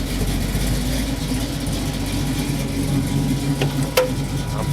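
A supercharged car engine runs with a cog-driven supercharger, a dense, loud, continuous rumble and roar with a low throb, steady throughout and close up.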